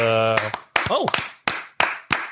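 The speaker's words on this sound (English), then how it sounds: "Dudes, I love applause" A handful of sharp, separate handclaps ring out during an online VMware user-group show, about six claps in an uneven rhythm, close and dry, after a short burst of a voice at the start.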